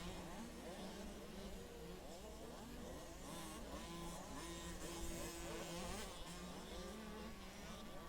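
A motocross bike rides through the Kawasaki horseshoe turn at a PAMX/MDRA race, its engine whining and revving up and down, faint and distant, against a steady outdoor background.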